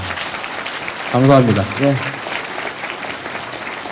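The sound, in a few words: applause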